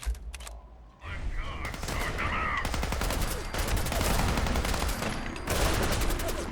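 Rapid gunfire from a gun fight against a gulper creature in Fallout 4, a dense burst of shots running almost continuously after a brief quiet opening, loud and close.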